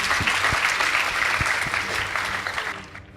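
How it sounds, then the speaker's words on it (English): Steady crowd applause at a school competition's results announcement, a dense wash of clapping with a few sharper claps, fading slightly toward the end. "Please give them a round of applause."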